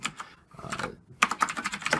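Someone types code on a computer keyboard in quick bursts of close, crisp key clicks, with a short pause partway through before the tapping resumes.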